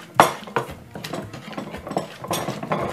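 Mashed plantain and salt are worked together in a bowl, giving a series of close, irregular scraping and knocking strokes from a utensil, some sharper clacks standing out from a soft grinding texture.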